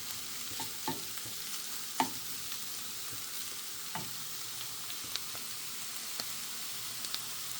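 Egg cooks with cauliflower rice over a low flame, giving a soft, steady sizzle with occasional light clicks of a spoon against the pan, and no one speaking.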